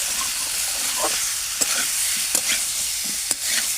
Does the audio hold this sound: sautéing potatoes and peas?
yes